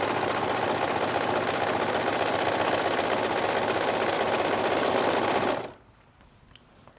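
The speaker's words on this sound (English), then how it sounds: "if you have one of these and you want to make the whole thing just with an overlocker, you can" An overlocker stitches the seam of a knitted jumper with a fast, steady mechanical whir up close, then stops suddenly near the end and leaves near silence with one small click.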